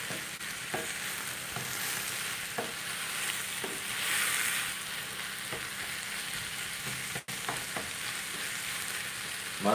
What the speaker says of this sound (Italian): stiamo ripassando la cicoria che poi sarà ripiena